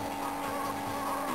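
Modern-era Porsche engine from the Game Boy Advance game Need for Speed: Porsche Unleashed, a continuous electronic whine with a steady tone and a slight pitch rise near the end, loud and unbroken, with no voices.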